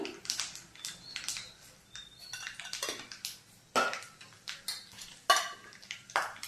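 Mustard seeds dropped into a hot frying pan, giving a run of sharp clinks, crackles and spattering pops that recur through the clip, with no talk.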